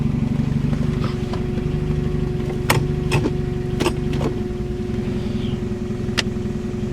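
A Volvo barn find left unused for over 15 years, with sticky brakes, idles steadily with a low, even engine hum. Several sharp clicks and knocks cut through it along the way, and no one speaks.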